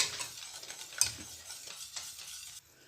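Honey and sugar for turrón are stirred nonstop in a pan over medium heat, a soft steady scraping and faint bubbling hiss that stays fairly quiet and even throughout.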